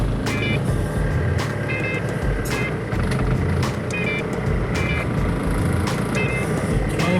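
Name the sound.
road traffic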